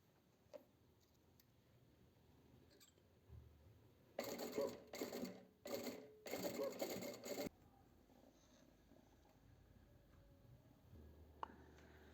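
A sewing machine stitches a gathered dress lining in several short bursts close by, separated by brief pauses, with quiet room tone before and after.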